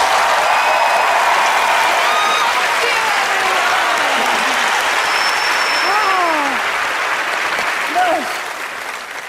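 A theater audience applauds after a magic trick by Glenn Morphew, a dense, loud burst of clapping that holds steady and tapers off toward the end, with voices cheering and calling out through it.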